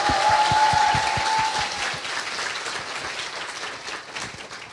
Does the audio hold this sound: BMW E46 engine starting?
no